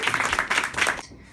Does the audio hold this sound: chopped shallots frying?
no